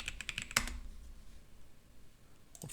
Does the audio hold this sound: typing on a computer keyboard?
yes